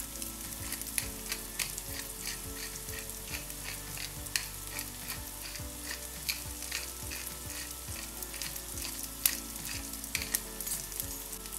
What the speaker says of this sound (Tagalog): Lutuin lang natin muli para lumabas ang aroma ng ating paminta.